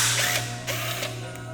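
A ratchet clicks rapidly and steadily at close range, loosening a bolt on the cam angle sensor of an SR20 engine, over a faint constant hum.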